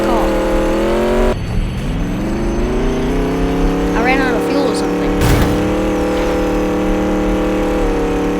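Rough, uneven car engine in the Mad City video game, running continuously with a steady drone and a couple of brief revs or knocks, with a person talking over it.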